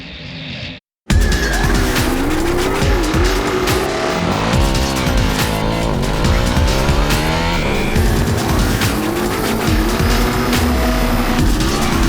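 Cars and motorcycles launch side by side down a runway drag race, a loud continuous roar of engines with rising and falling revs and tire squeal, close and sustained after a brief moment of silence.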